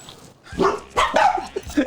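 A few sharp dog barks in quick succession, fairly close, with short pauses between them.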